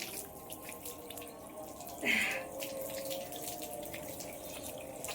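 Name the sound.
water running from a tap while washing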